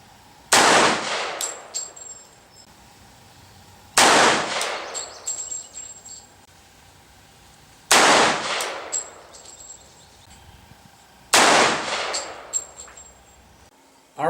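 Four loud, close gunshots at an outdoor range, evenly spaced about four seconds apart, firing cast lead bullet handloads of 7.5 grains of Accurate No. 7 powder, each with a sharp crack and a ringing decay.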